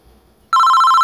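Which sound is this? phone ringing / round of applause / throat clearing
phone ringing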